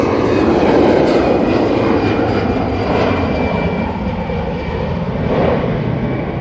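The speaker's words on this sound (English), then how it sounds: "Next two heavy arrivals got Aer Lingus A330 from JFK and the Cathay Pacific A350-1000 from Hong Kong this morning." A heavy jet airliner, an Aer Lingus A330 or Cathay Pacific A350-1000, roars loudly and continuously on arrival at Manchester Airport, a broad unbroken engine rush that swells slightly near the end.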